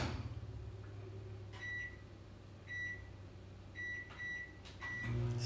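Steady low hum of a microwave oven running, with a few faint high beeps or clicks scattered through; no voices.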